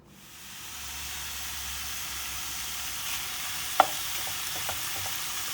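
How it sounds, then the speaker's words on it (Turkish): Minced meat sautéing in a pan for içli köfte filling, a steady close sizzle and hiss that swells in and holds, with a few light utensil taps partway through. "Önce kıymamızı kavuruyoruz."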